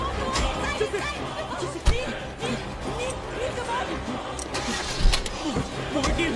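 A jeep engine cranks and catches amid hurried shouting, rumbling low with sharp bursts and a revving surge near the end, while several voices talk over it.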